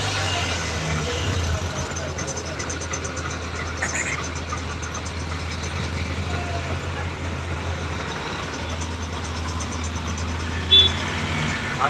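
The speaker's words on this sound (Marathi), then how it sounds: "बघा आर्मीची गाडी पण फुलं घ्यायला आली असत" An army vehicle arrives at a busy flower market in Gultekdi, Pune: a steady low engine drone rumbles throughout, close and continuous, with faint market bustle and a brief sharp sound near the end.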